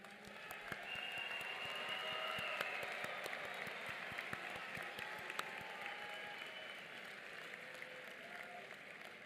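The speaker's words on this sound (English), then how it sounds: "Let us give the new graduates a big round of applause again." Sustained audience applause for new graduates at a university nursing and public health graduation ceremony, a dense wash of many hands clapping that swells and then slowly tapers, with no talk over it.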